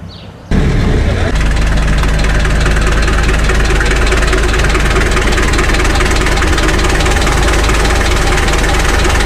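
A tractor engine starts up and then runs steadily and loud at close range, with a low, knocking idle that continues throughout.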